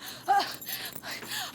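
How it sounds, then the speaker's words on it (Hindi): A woman panting heavily after running, with a few quick, close breathy gasps in an uneven rhythm, loud and sharp, with no other sound around them. "इतना हाँफ क्यों रही है?"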